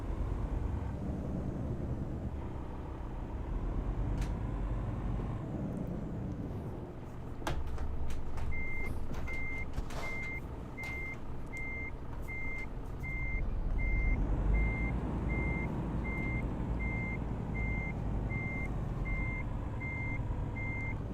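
A truck reverses in Euro Truck Simulator 2 to hook up a trailer, with a steady engine rumble throughout and a regular reversing beep repeating from about the middle of the clip onward, with no voices.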